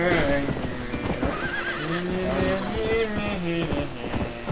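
A horse neighs and whinnies in a Red Dead Redemption game scene, with clip-clop hoofbeats and other game sounds close and loud, while a player talks over it.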